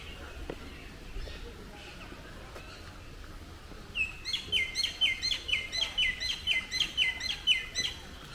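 Small birds inside a zoo aviary in Mauritius break into a rapid run of bright, repeated chirps and tweets after a few seconds of quiet ambience, fairly close and lively.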